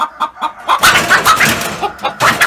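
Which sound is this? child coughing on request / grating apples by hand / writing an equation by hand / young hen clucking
young hen clucking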